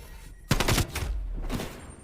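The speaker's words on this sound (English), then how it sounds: "There we go. Artillery." Artillery strike killstreak landing in a Call of Duty match: a loud burst of rapid impacts begins sharply and rolls on for about a second, then a second quieter volley follows, with a low rumble sustained underneath.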